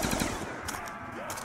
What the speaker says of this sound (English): Such a little gun so much damage.